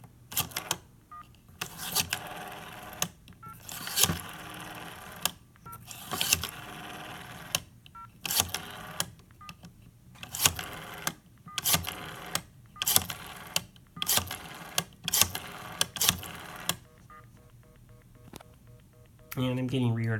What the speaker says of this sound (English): you'll hear the pulse to tone converter operate